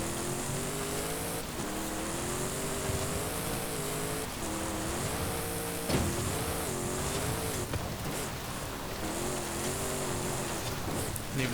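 A 2020 Chevrolet Silverado LT Trail Boss pickup engine in Forza Horizon, a steady loud drone that rises and falls as it revs and shifts, continuous and close throughout.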